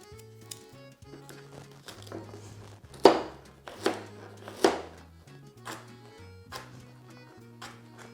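Knife chopping carrot on a cutting board for meatball prep in a home kitchen, a series of crisp, close taps with a few louder strikes in the middle, under a quiet background tone.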